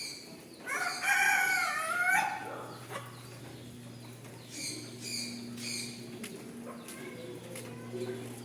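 A rooster crows once, loud and close, with a long rising and falling call, followed by scattered clucks and rustling over a low background hum, at a bird park in Mabalacat, Pampanga, Philippines.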